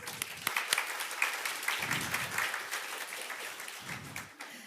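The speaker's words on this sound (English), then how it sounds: "So please, Marie, give her an applaud." Audience applause at a seminar on zero hunger and climate, a steady wash of clapping hands through the room with a couple of brief low murmurs or voices underneath.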